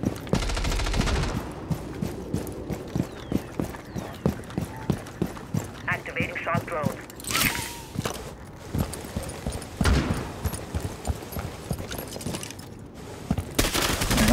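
Rapid bursts of Rainbow Six Siege gunfire crackle amid running footsteps and other game effects during a team deathmatch, with a voice talking over the action.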